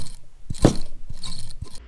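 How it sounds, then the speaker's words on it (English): Mechanical clicking and ratcheting from the generator of a Corvair engine being built for rally use, turned by hand, with a few distinct clacks and whirring bursts, close up and alone. "the generator, let's hear that."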